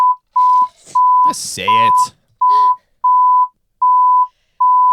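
A sharp, steady censor bleep sounds about eight times in an even rhythm during a college football talk segment. Brief bursts of a man's speech come between the tones.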